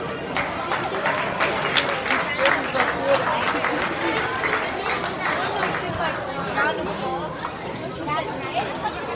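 A crowd at an athletics banquet applauds steadily, mixed with loud chatter and voices throughout, forming a busy, sustained hubbub.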